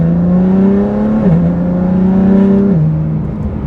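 A BMW S55 engine with a Dinan muffler, the M4 GTS setup, droning steadily and loud up close, its deep exhaust tone holding level and dipping slightly twice as revs settle, with no raspiness.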